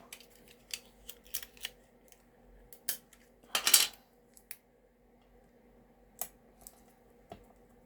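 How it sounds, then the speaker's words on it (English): Scattered sharp snips and clicks of scissors cutting, close and intermittent, with one longer crunchy cut in the middle and quiet gaps between. "And snip with some scissors."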